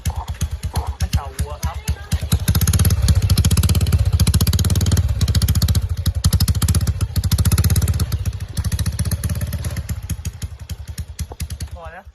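A Honda Wave 110i motorcycle engine with an aftermarket exhaust runs loud and close with a throaty, rumbling exhaust, revving up and holding steady before easing off, with people talking over it.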